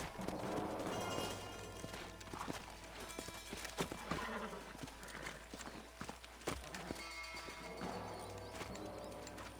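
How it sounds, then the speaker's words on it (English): Horses in the Western video game Red Dead Redemption clip-clop steadily with an occasional whinny, close and fairly loud over a constant game ambience and music bed, with no voices present. "Let's hold up a minute and find a spot for our horses."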